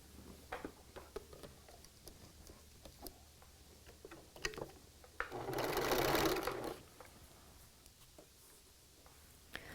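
Sewing machine stitching a seam on a T-shirt quilt: scattered ticks and handling clicks, then a loud buzzing run of stitching lasting about a second and a half before stopping.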